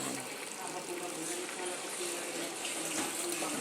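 Tap water runs steadily into a sink, a bright continuous splashing hiss at close range, with a few faint voices in the background.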